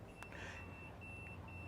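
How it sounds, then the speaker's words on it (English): A truck's low air pressure warning buzzer, triggered at 78 psi during an air brake test, sounds as a faint, thin steady tone over a low idling engine rumble, with a short click near the start. "That's my low air warning light. Also, I can hear my buzzer."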